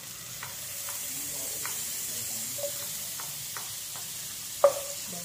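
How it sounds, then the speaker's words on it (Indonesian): Quiet sautéing in a pan while making dory fish in carbonara sauce: a soft steady sizzle with occasional light clinks of a utensil against the pan. "sekarang kita tumis"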